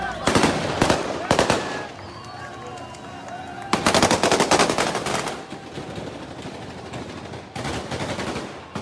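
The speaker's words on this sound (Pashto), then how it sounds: "ډزې دي، ټول ډزې دي." Rapid bursts of machine-gun fire in Afghanistan during the Taliban siege: three loud, dense volleys separated by quieter stretches of distant crackle and background noise.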